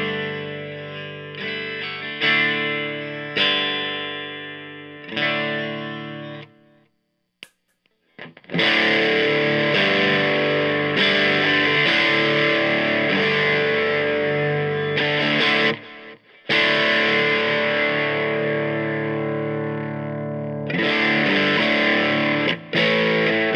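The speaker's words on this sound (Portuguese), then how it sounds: "guitarra Zaganin T-Line Telecaster, amplificador Mini 8 da Soloamps e delays e reverbs vêm de um Dispatch Master da Earthquaker Devices, e esse é o meu som limpo" A Zaganin T-Line Telecaster through a Soloamps Mini 8 amplifier with Earthquaker Dispatch Master delay and reverb plays a clean tone: sustained chords and notes ringing out with lush echo tails, a short pause, then fuller strummed passages.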